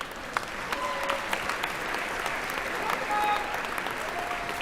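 Graduates at a University of Texas at Dallas fall 2022 commencement turn and applaud their parents: a dense, steady wash of clapping from a large crowd in a big hall, sustained and even for several seconds with a few faint voices mixed in.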